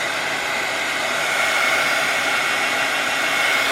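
A heat gun blows hot air steadily to melt craft material, producing a loud, continuous broadband whoosh that rises slightly partway through, with no voices.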